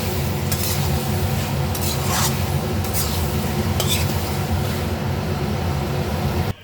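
Chicken gizzards being stir-fried in a pan for a Bengali kosha, a loud steady sizzle with repeated scraping strokes of a spatula throughout.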